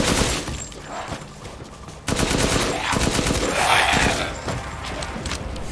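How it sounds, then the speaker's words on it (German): Heavy automatic gunfire from the video game Resident Evil Village, a loud, continuous rapid stream of shots that grows denser partway through, with no voices over it. "Wir haben 700 Schuss mit dieser Megawumme."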